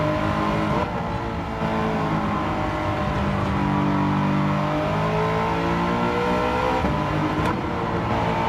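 A BMW Mini car revving in the video game Gran Turismo 7, the engine droning loudly and steadily with pitch sweeping up and down through gear changes throughout.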